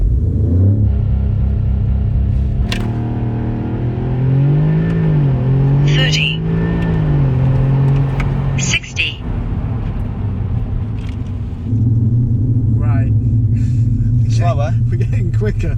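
Audi S3 launching hard on a wet road with traction control switched off, its engine droning and revving steadily with rising and falling pitch throughout, a brief dip midway, heard from inside the car.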